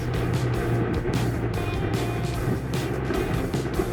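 Ford Roadster engine idling steadily with a low, even rumble, close and continuous, no talk over it.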